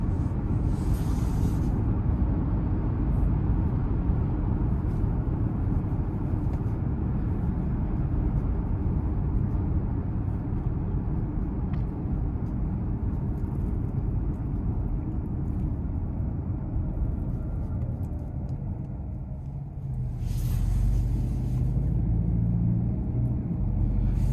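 Steady low rumble of a Ford Escape Hybrid with its 1.5-litre three-cylinder engine while driving, a continuous drone of engine and road noise with brief louder swells near the start and end.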